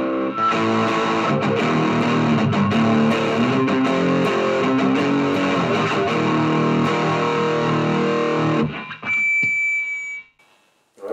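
Electric guitar played through a Digitech DF7 distortion pedal, a thick sustained overdriven tone with held and shifting notes for several seconds, then a sudden cutoff followed by brief high feedback-like tones and quiet.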